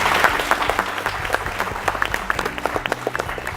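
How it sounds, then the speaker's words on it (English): At a national quiz competition, the audience claps for the four teams on stage in a lively, uneven round of applause with distinct close claps over a low background hum. "So it's only fair that we have another round of applause for all the 4 teams on stage."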